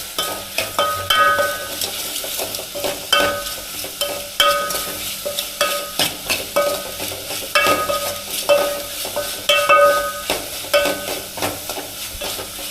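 Dried fish coated in chili powder fries in a pan over steady sizzling, broken by repeated scraping and clinking of a spoon stirring at a loose, uneven rhythm, close and fairly loud, with no voices.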